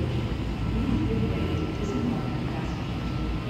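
The Miami Airport E-Train people mover rumbles along, a steady low hum and rolling drone with a faint whine above it, and muffled voices are heard in the background.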